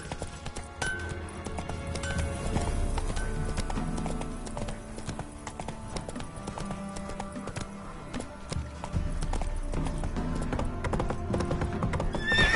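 Horse hooves clip-clop at a gallop with repeated neighs and whinnies in the video game The Witcher 3, loud and continuous throughout over a busy game soundscape.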